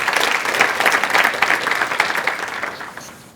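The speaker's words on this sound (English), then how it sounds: "So a round of applause for our panel this afternoon." An audience at an International Women's Day panel event claps steadily for a few seconds, the applause fading out toward the end.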